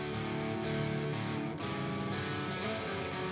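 Two electric guitars play rhythm together through an amp simulator at an edge-of-breakup tone for an emo/alternative rock track, producing a sustained, lightly distorted chordal wash that rings on with brief changes between chords.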